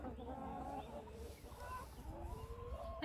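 Hens clucking in a coop in Yaremche, several birds making overlapping short clucks and murmurs close by, continuous throughout with no talking.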